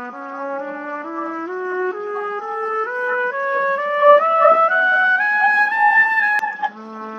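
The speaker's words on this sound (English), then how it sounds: "Here's the picture of trumpet and here's the sound of trumpet." Solo trumpet plays a steadily rising stepwise scale of clear sustained notes, climbing for several seconds before dropping back to a low note at the end.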